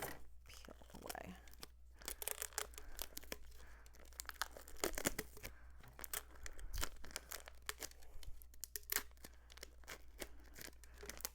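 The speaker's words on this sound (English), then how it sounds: "I'll just do this so I can peel away." Crinkly plastic backing peeled off a UV DTF sticker on a tumbler, with repeated sharp tearing and crackling bursts, close and busy throughout, under faint handling noise.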